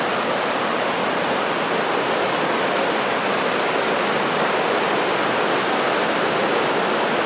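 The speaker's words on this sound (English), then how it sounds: "Well, the creek still looks pretty high." A high-running creek near a gold prospecting mine rushes steadily, a loud, continuous broadband wash of water with no breaks and no voices.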